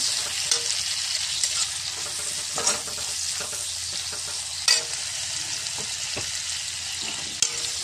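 Dried mon bhola fish with a little cumin paste fries in a pan, a dense continuous sizzle close by, broken by occasional sharp scrapes and knocks of a stirring utensil, with no talking.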